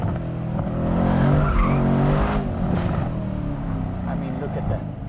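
Mercedes-AMG C63 S W205 accelerating hard in second gear, a loud engine roar with tires squealing under throttle, nearby and continuous, while someone speaks over it.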